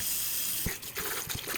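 Water runs and splashes as humidifier parts are rinsed under a tap, a soft continuous flow broken by a few short splashes and knocks, close and quiet.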